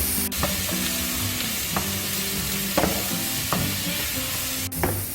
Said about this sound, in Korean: 볶아주세요. 대충 된 것 같게 할 때 새우를 넣어주세요.